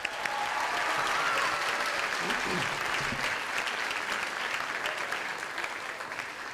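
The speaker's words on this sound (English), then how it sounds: "Let's give another round of applause for both those acts." Sustained applause and cheering from the crowd at a benefit concert for Puerto Rico and the Caribbean region fills the room after musical acts. A brief voice rises partway through the clapping.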